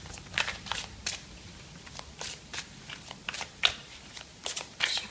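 A deck of oracle cards is shuffled and cards are drawn, giving a quick series of close, crisp riffling and slapping bursts at an irregular rhythm over near silence, with no speech.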